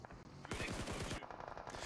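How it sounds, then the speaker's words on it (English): Rapid automatic gunfire rattles in a dense burst with a heavy blast as a vehicle explodes during a PUBG Mobile esports match, loud and close with no clear talk. "Good explosion on the vehicle there, Jackie"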